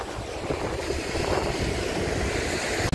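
Sea waves washing against a pier in Odesa, a continuous broad rush of water and spray mixed with wind buffeting the microphone, loud and steady without voices.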